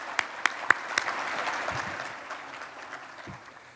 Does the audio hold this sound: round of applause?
yes